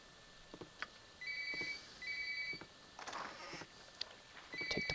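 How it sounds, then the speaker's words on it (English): A telephone rings in repeated electronic double trills with short gaps between them, fairly faint against quiet room noise and a few soft knocks. "I pause the recording to answer the phone"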